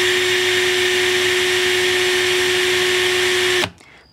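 An INGCO CIDLI20025 cordless drill runs unloaded at full speed with a steady, loud motor whine and constant pitch, then cuts off abruptly near the end.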